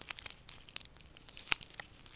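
A sealed plastic packet of pu-erh tea is pulled and crinkled by hand, giving soft, scattered rustles and small crackles in close range with no talking.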